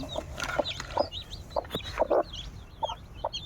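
Newly hatched chicks chirp in quick high peeps close by, mixed with soft lower clucks from a hen.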